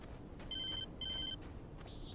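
A phone rings in the Alan Wake video game, two short trilling electronic bursts in quick succession over a low ambient hum, followed by a brief rising tone.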